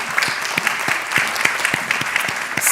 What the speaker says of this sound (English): massive applause to this colleague